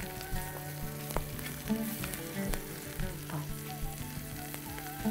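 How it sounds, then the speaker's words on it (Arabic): Onions and garlic sauté in a pan with salt, pepper and a pinch of cumin, a steady crackling sizzle with occasional stirring clinks and scrapes, close and fairly loud, with no talking. "تشويح البصله مع الثوم مع شويه الاضافات دي"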